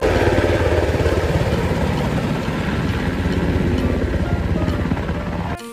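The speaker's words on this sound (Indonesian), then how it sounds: "ada helikopter" A toy helicopter sound effect plays from a shaking truck loaded with toy vehicles, a loud steady rotor-and-engine drone that runs continuously for several seconds before cutting off abruptly.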